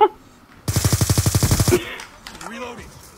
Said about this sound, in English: I was shooting him with my assault rifle